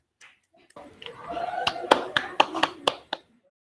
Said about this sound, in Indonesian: kita berikan aplaus kepada Mas Rizal dan kawan-kawan